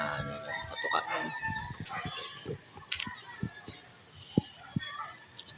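Breeder chickens cluck and call on a farm, and a rooster crows early on, under someone talking. Sharp pecking or tapping sounds come near the end.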